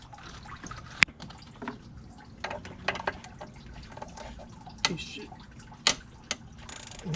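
A ratchet works the 8mm throttle body bolts on a 2014 Ford F-150 with 149,000 miles, giving sparse sharp metallic clicks and knocks spread through a quiet garage, with small handling noises between them.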